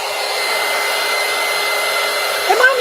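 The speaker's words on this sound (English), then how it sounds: "Hit it with the heat tool." A heat tool blows steady hot air across a mixed-media art card, a continuous loud hiss with no talk, rising briefly and shifting near the end.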